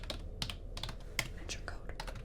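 Keyboard keys typed on a computer in a quiet library setting, a short burst of soft, close clicks at an uneven pace, with no talking over them.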